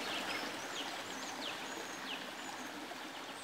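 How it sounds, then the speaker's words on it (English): A river in the mountains of Asturias, Spain, flows steadily under overhanging trees, a constant soft babble, while several birds sing clear, bright chirps and whistles throughout. "it's nice to be by the river. Here the overhanging trees provide some shelter from the sun, and there's plenty of singing birds."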